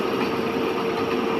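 A separately excited DC shunt motor on a test bench runs at constant speed, giving a steady, continuous hum with a fixed tone and unchanging level throughout.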